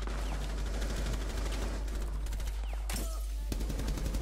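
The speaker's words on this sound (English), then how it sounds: "I was being shot at from below hatch." Dense gunfire in the video game Rainbow Six Siege, rapid bursts of shots crackling continuously over a heavy low rumble, loud and close, with a brief sharp burst partway through.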